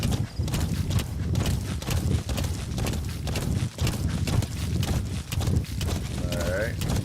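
Steady clip-clop of horse hooves in a video game, a continuous rhythmic gallop close by, with a voice talking over it and a brief whinny near the end.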